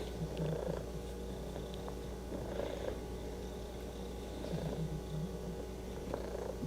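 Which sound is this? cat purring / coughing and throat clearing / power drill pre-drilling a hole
cat purring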